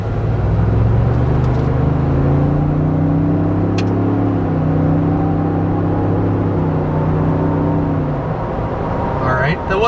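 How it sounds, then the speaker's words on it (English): A 2021 Ford Bronco Wildtrak accelerates from inside the cabin, its engine droning in a steady rising rumble, heard loud and continuous, before easing off near the end. "First acceleration, 2021 Ford Bronco."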